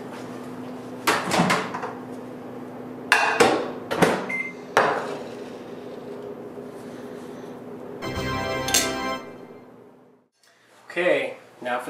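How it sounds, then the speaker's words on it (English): A microwave oven heats a plate of spaghetti topped with extra cheese. A steady low hum runs under door clunks, knocks and kitchen clatter, and a person talks nearby. "I'll throw this in the microwave for a few seconds."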